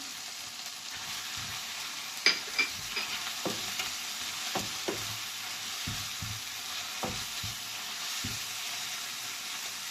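Dried shrimp (hibi) hits a pan with tomato, giving a steady close sizzle of frying broken by scattered clinks and scrapes of stirring.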